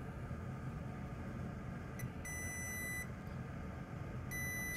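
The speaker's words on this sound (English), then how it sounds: "Meter in continuity mode or diode mode." A multimeter set to diode or continuity mode emits short electronic beeps while probing traces on a Cessna aircraft circuit board, a few brief tones over a faint background hiss, quiet and close.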